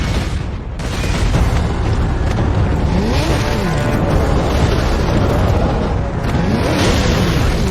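A grenade blast in the Warhammer Space Marine game on a landing pad under attack by traitors: loud, dense rumbling booms and roaring low noise fill the whole stretch, with a brief dip before the sustained roar.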